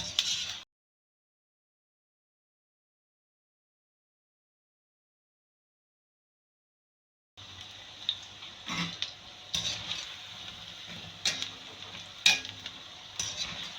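Fish pieces frying crisp in hot oil: a soft, steady sizzle with occasional clinks and stirring ticks, starting after a long stretch of silence.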